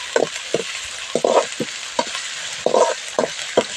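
Sliced onions with garlic paste fry in oil, sizzling steadily while a utensil scrapes and stirs the pan in repeated short, close strokes.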